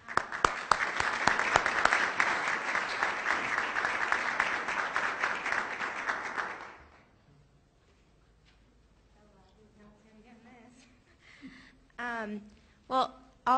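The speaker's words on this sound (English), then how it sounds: "So applause, please." Audience applause at an NSF workshop on materials and manufacturing, loud sustained clapping from many hands for about seven seconds that fades out, followed by a quiet room with faint speech and brief noises.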